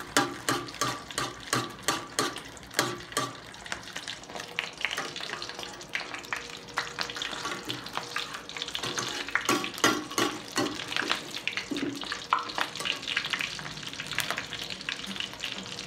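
Tortang giniling, an egg omelette with ground pork, potato and carrots, fries in a pan with a steady crackling sizzle, broken by occasional scrapes and clinks of a utensil, close and continuous with no voices.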